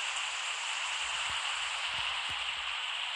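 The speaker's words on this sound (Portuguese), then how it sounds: "A chuva tá muito forte, olha aí." Heavy downpour in a rain-and-thunderstorm video game, a continuous wash of falling water with a few faint low thumps mixed in.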